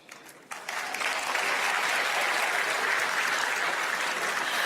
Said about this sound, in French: Merci de les applaudir encore